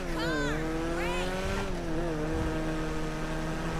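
A Karin 190z car drives in GTA V Online, a steady engine drone with rising and falling gear-change whines and light tire noise.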